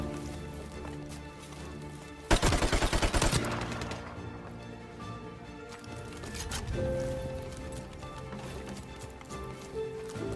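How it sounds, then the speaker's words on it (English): Rapid bursts of MP44 hip fire in Call of Duty, a loud dense rattle of automatic shots around the middle, then quieter game ambience with faint background sounds. "This is the MP44. You can just hip fire."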